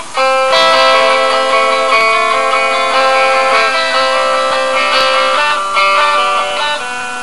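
Guitar chords from a remix, moving through four shapes including a barre with open strings, strummed in a steady, sustained wash without a break.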